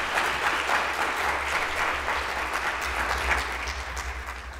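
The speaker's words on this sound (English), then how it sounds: "Can you just give them a round of applause?" An audience at a New South Wales higher education summit gives a sustained round of applause, a steady dense patter of many hands at moderate level that fades slightly toward the end.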